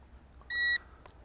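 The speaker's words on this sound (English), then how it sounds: "hold down the photo button until it beeps" A drone remote controller gives one clear electronic beep, bright and about a quarter second long, which marks the start of compass calibration on a ZLRC SG906 Pro2 drone. A fainter short chirp follows, set against quiet surroundings.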